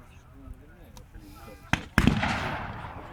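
Gunfire at a WW2 re-enactment battle: a sharp crack, then a louder booming shot that rolls out into a long echoing tail, with someone narrating quietly underneath.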